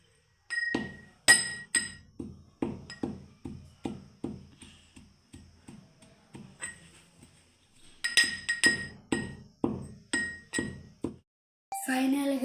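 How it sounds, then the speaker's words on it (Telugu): Jaggery pounded with a pestle for tamarind lollipops, heard as a steady series of close, sharp knocks in two runs of about a dozen strikes each, separated by a short quiet pause. "సరిపడా బెల్లం వేసుకొని దంచుకోవాలి."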